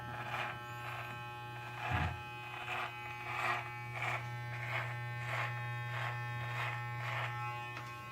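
An electric beard trimmer buzzes steadily close by, its whine rising and falling in soft rhythmic passes as it works through a man's own beard.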